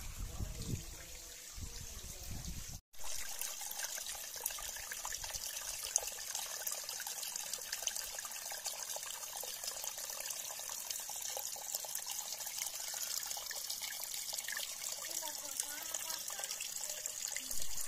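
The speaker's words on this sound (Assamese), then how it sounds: "এইয়া পাহাৰৰ মাজে মাজে এনেকৈ শিলৰ ফাকেদি এইয়া পানী আহি থাকে" Spring water trickles steadily between rocks on a hillside, a continuous close splashing wash that runs for the whole stretch with only a brief dip near the start.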